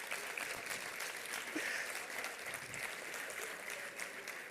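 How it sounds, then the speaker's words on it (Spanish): An audience at a census results presentation in Ecuador applauds steadily, a dense sustained wash of clapping that holds at an even level throughout. "Bueno, aplaudan."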